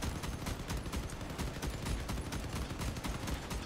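Rapid vehicle weapon fire in the combat game Crossout, a dense, continuous stream of shots, fairly faint and steady throughout.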